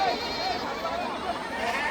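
Sheep and goats bleat repeatedly at the crowded Chakan livestock market, loud and close, over a steady hubbub of people talking.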